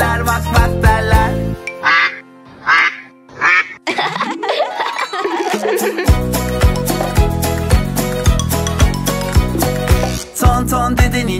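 Cartoonish duck quacks in a children's farm song, several short bursts in quick succession set against bouncy music that carries on underneath.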